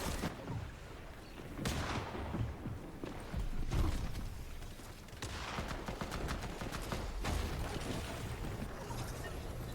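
Gunfire from a Fortnite solo endgame tournament crackles in repeated rapid bursts and single shots, fairly quiet, with faint voices in the background.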